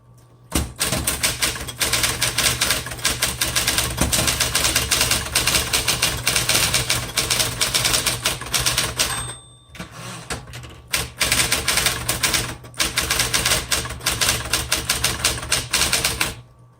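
A 1960s Smith Corona Electra 120 electric typewriter being typed on, with loud, rapid bursts of clacking keystrokes over a steady motor hum, pausing briefly twice before fast typing resumes.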